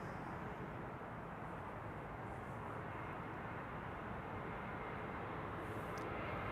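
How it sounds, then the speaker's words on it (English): Icelandair Airbus A321neo airliner arriving at Amsterdam Schiphol, a continuous broad engine roar heard from a distance, steady and fairly quiet throughout with no talk. "Next up, Iceland Air Flight 500, A321neo."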